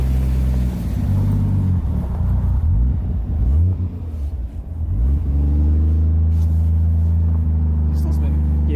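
A car on Nismo wheels, stuck in a driveway, spins its wheels with a loud, continuous low engine rumble that rises and falls as it revs, while people talk close by.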